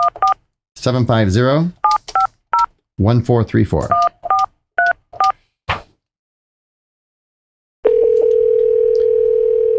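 Telephone keypad dialing in short paired-tone beeps, interleaved with a person talking, then after a pause a steady continuous dial tone holds for the final seconds, loud and close.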